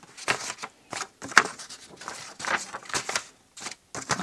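Loose sheets of paper from a junk journal batch, about five pages, are shuffled and knocked together to align their tops, giving a series of close, soft rustling swishes and taps in bursts with short pauses.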